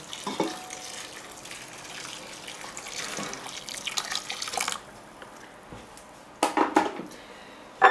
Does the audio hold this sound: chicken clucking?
no